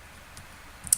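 A single quiet mouse click lands near the end, a short sharp tick over faint room hiss while editing a Padlet board on a computer.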